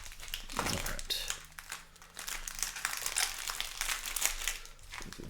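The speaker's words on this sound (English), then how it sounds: "One more shuffle here." Trading cards from Magic: The Gathering Double Masters 2022 packs are shuffled by hand close to the microphone, a run of crisp riffling and papery crinkling bursts in quick succession.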